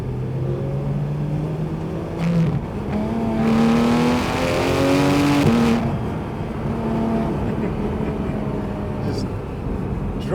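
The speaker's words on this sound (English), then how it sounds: "Dropping it a gear" A car engine drops from fourth to third gear, the revs rising in a strong climbing whine that peaks and breaks off, then builds again, loud and close, with someone talking over it.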